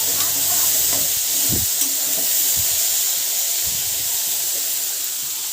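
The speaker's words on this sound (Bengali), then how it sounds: "গ্যাসের ফ্লেমটা মিডিয়াম রেখে আস্তে আস্তে করে ভেজে নিতে হবে" Taro stolons fry slowly in oil over a medium gas flame, giving a continuous, fairly loud sizzling hiss with a few faint stirring knocks underneath.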